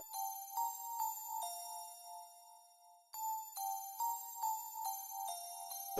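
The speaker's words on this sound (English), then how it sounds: "For the bells, I use the pretty bells from XV1080." Pretty Bells preset from an XV1080 synthesizer in a beat, a clean, bright bell melody of struck tones ringing with sustained decays, moving between a few pitches, with a short pause midway.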